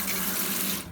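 Water gushes steadily from a caravan shower tap, a loud close hiss of running water that cuts off abruptly near the end.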